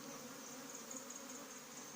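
Hybrid African honey bees buzzing during a hive removal, a dense, steady drone of many bees up close, continuous and alone with no talk.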